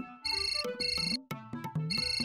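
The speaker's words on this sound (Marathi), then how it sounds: "हो फोन वाजतोय तुमचा." A mobile phone ringtone plays a bright, melodic electronic tune indoors, repeating in short phrases that are loud and close, with no voices over it.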